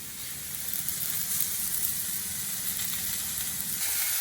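Beef tenderloin searing on a home grill pan, a faint, continuous sizzle and hiss with soft crackling that holds steady throughout, no voices.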